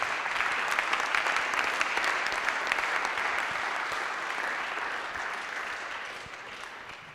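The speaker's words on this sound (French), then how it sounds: "Je voudrais que vous accueilliez avec beaucoup d'applaudissements Greta Gattarec-Girodon de NutriSense Italia." A conference audience applauds to welcome Greta Gattarec-Girodon of NutriSense Italia to the stage, steady sustained clapping from many hands that fades slowly toward the end.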